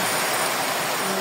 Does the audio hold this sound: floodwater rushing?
yes